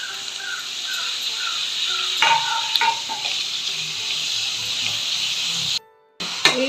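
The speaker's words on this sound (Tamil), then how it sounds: "வெங்காயம், பச்சை மிளகாய் எல்லாம் வதக்கிக்கலாம்." Onion, green chilli, tomato, ginger and garlic sauté in a pan for a white chickpea (channa) gravy, giving a steady close sizzle with a few stirring knocks and a short break near the end.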